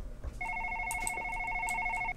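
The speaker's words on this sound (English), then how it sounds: "Is that my phone?" A phone rings in the video game One Late Night, a bright electronic trilling tone that starts after a brief pause and holds for under two seconds over quiet background noise.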